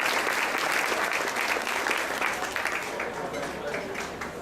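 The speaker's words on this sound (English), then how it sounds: "Please, a round of applause for Jackson Smith" Warm, continuous applause from the audience at a most inspiring student awards ceremony for an elementary school fifth grader, full and steady, easing slightly toward the end.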